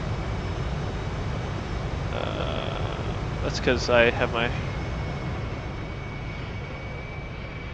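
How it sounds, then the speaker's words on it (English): A steady, loud roar of an F/A-18 Hornet jet engine in the DCS flight simulation game runs throughout, with a person talking over it from start to end. "Yeah, the jet is probably pretty loud."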